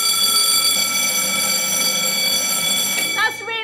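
A homemade alarm, built into an alarm clock that fires cereal, is set off by yelling into a microphone. It sounds a loud, continuous, multi-tone electronic blare throughout, and a voice breaks in near the end.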